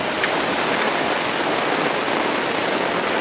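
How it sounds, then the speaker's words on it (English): Steady broadband rush of rain pouring into a stone-lined dry riverbed trench in a garden, dense and continuous with no pauses, fairly loud and close throughout, with no voices. "Rain, rain!"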